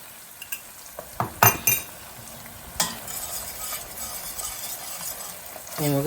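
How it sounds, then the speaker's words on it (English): Flour being stirred into butter and onions in a pan for a roux, with soft scraping and a low sizzle broken by a few sharp clinks of utensil on pot, close and fairly quiet. "We're making a roux. Okay. And you got to cook your flour for a couple minutes."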